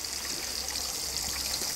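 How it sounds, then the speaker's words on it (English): Water draining from an aquaponic grow bed through a 2-inch pipe, a steady trickling and gurgling flow with a bright hiss, faint and continuous with no talking. "Kind of does a little like gurgle, and that's the end of the drain."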